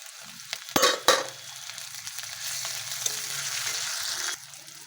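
Tomatoes hitting hot oil with onions and green chillies for a chicken dish: two sharp, loud sizzle bursts near the start, then a steady crackling fry that runs on before easing near the end.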